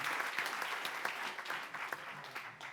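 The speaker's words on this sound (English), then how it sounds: "So big round of applause to Mick and the team for supporting in this." Steady applause from a room full of people, dense clapping that holds for a few seconds without a break.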